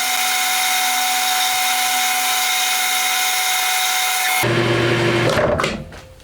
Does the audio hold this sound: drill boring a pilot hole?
yes